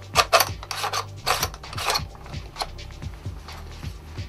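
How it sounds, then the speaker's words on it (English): The bolt slide on an SRC MP5 airsoft gun is drawn back with rasping, ratcheting plastic-metal scrapes, followed by a run of small regular mechanical clicks, close and fairly loud. "You simply slide that back, put it up to the top"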